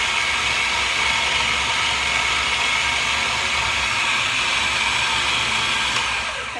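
A blender runs on high mixing almond pulp, a loud continuous whirring roar that holds steady and eases slightly at the end, with no talking.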